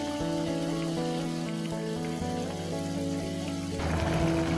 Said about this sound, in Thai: เดี๋ยวพี่วินลองเคี่ยวพริกแกงไปก่อนนะครับเพื่อนๆให้เขาเดือดอีกนิดนึง